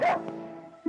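A single dog bark rings out up close, followed by a fading tail and a brief second yelp at the end.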